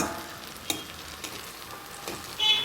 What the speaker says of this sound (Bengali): সমস্ত ধোকা এইভাবে লাল লাল করে ভেজে আমি তুলে নিলাম